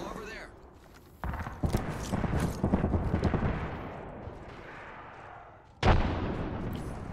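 Gunfire in the video game Apex Legends comes as a burst of booming shots and rapid fire, followed by a sudden loud blast, all mixed with game sounds and heard fairly close.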